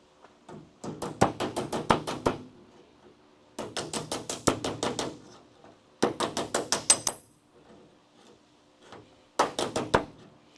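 Bursts of rapid metallic hammer blows as car body panel edges on a Crew Cab Charger restoration are straightened against a handheld anvil. Four close, clear flurries of quick taps are separated by short pauses.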